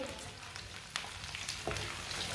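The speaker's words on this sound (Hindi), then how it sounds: "एक बारीक कटा हुआ प्याज डाल लेंगे। प्याज को ना हल्का सा ब्राउन कर लेंगे।" Finely chopped onion frying in oil with whole coriander and cumin seeds for an aloo matar gajar sabzi gives a steady, fairly quiet sizzle with a few soft clicks, and no one speaks.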